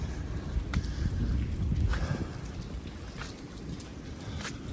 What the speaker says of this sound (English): For the record, it didn't stop raining at all.